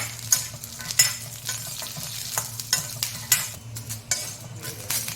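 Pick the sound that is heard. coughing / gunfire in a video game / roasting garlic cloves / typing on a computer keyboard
roasting garlic cloves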